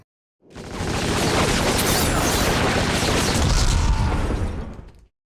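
A sustained barrage of video game gunfire during an assault on a machine gun nest rolls on for several seconds, dense, loud and booming with overlapping shots and blasts.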